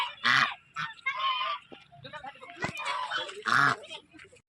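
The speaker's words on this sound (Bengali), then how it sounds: "হাঁস" Geese at a tourist park in Dhanbad honk loudly and close by in several harsh bursts, some overlapping, with short pauses between the calls and no talking.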